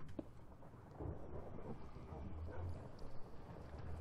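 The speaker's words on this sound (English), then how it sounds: "It's just a thunderstorm." A thunderstorm in Minecraft with a localized weather mod produces a low, distant rolling rumble of thunder over soft rain noise, quiet throughout.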